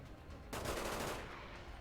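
A quick burst of SMG gunfire from the video game XCOM 2, one short rattling volley that fades into a brief tail.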